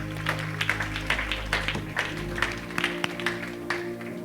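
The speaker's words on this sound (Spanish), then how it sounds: "Denle un aplauso a estos actores." Church congregation clapping for actors after a sabbath service skit, a steady patter of many hands with sharp peaks, moderately distant over a low hum.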